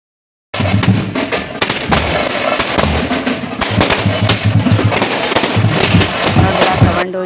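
Firecrackers burst in dense, irregular volleys of sharp loud cracks during a Ganesha festival procession, nearly continuous bangs over a crowded outdoor din with voices mixed in.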